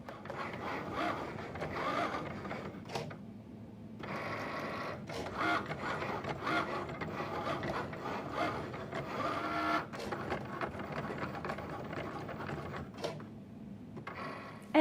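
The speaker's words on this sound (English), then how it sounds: "now I'm just gonna press that flashing Cricut button" A Cricut cutting machine cutting paper flower petals, a steady mechanical whir with rhythmic rattling carriage sweeps and short pauses between passes, close and moderately quiet throughout.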